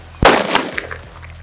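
A triple light bomb firecracker from a Sivakasi Diwali family box goes off in one sharp, loud blast with a short echoing crackle trailing after it.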